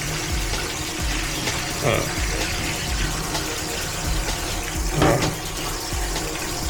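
Water runs and splashes steadily into a washing machine drum during a rinse, a close continuous gush with a few louder sloshes, while someone talks over it.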